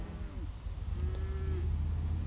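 Cattle on open hill range low and moo after their calves are weaned, with a couple of drawn-out calls, one short and one longer, over a steady low rumble of wind and field noise.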